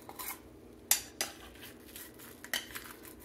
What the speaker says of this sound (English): I don't recommend using a metal spoon on nonstick